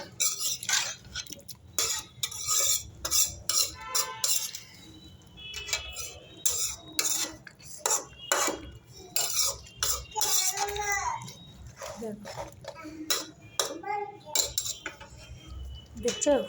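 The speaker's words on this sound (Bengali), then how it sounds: "এবার ভালো করে কষে নেবো।" Chicken curry being stirred and sautéed in a pan, with a utensil repeatedly scraping and clinking against the metal in irregular bursts. Someone talks and someone coughs in between.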